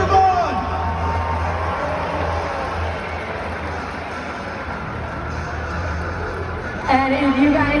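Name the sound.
arena crowd cheering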